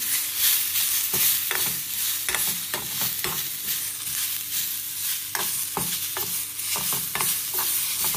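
Curry leaves roast in hot oil in a pan, frying along with garam masala, giving a continuous close sizzle broken by repeated sharp scraping stirs.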